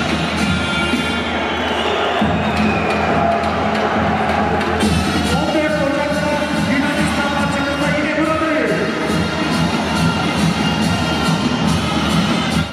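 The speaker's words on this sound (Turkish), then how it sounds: "Hasan Dağı Spor Salonu'nu dolduran seyircilerin coşkusu maç sonrasında da daha da arttı." Spectators packing a sports hall cheer and shout loudly after a national team match, a dense, constant roar of voices with occasional bangs that holds at full strength from start to finish.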